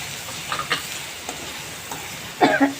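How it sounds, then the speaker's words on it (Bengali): Spices with chili and coriander powder are stirred as they fry in a pan, giving a soft, close sizzle. A few light scraping strokes build to louder stirring near the end. "নেড়ে চেড়ে নিয়েছি"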